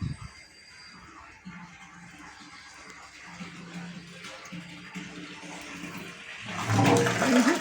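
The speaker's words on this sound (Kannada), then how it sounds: "ಜೋರು ನೀರು, ಇಷ್ಟು ಸ್ಪೀಡ" Strong municipal tap water flows and splashes, faint and rushing at first, then swelling into a louder gush near the end.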